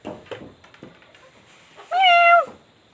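A single loud, drawn-out cat meow rings out clearly after a stretch of quieter rustling and soft sounds.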